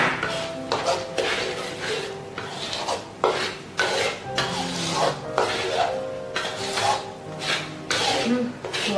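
A spatula stirs tiny rice anchovies (teri nasi) in a frying pan as they dry and crisp. The rhythmic scraping and rasping strokes repeat steadily, each stroke brushing across the pan up close.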